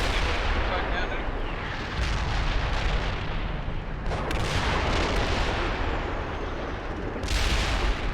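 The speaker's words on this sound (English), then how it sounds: "We've got forward artillery against us." Artillery fire in a military combat video game: dense, continuous booming and crackling barrages roll on throughout, with sharper bursts of louder impacts near the middle and end, filling the soundscape at steady high loudness.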